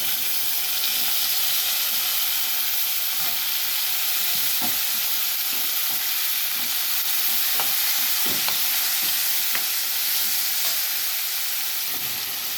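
Green chillies and onions fry in hot oil, giving a steady, fairly loud sizzle and hiss throughout, broken by occasional stirring clatters and scrapes in the pan.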